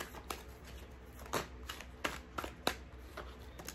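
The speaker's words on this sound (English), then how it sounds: "A couple more shuffles." Tarot cards being shuffled in quick riffling bursts, several crisp rustling flurries with short pauses between, close and fairly quiet.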